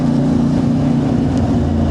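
A CFMoto 450MT motorcycle being ridden, its engine giving a loud, steady, close droning hum mixed with rushing wind noise, with no speech.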